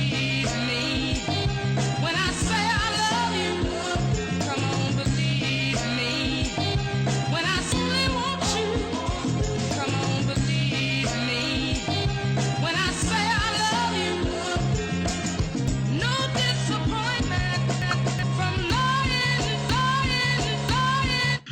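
A chopped music sample looped as the hook of a hip-hop beat built in FL Studio, with dense, steady melodic layers and a low bass line playing continuously at full level and no talk.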